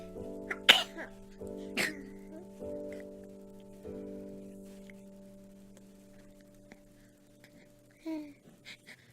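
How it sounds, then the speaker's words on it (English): A baby in a swing sneezes several times in short, sharp bursts, separated by quiet pauses, over a soft, steady musical tone from the swing. "She's having a sneeze attack."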